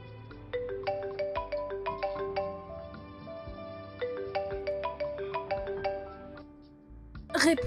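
A phone rings with an incoming call, a bright repeating melodic ringtone playing in two bursts at moderate volume, followed by a brief voice at the very end.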